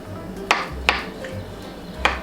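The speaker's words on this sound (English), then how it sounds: "now I'm going to just cut it into very thin slices" A knife cuts a ripe avocado into thin slices on a board. Three or four short, crisp cuts land as separate taps, with quiet pauses between them.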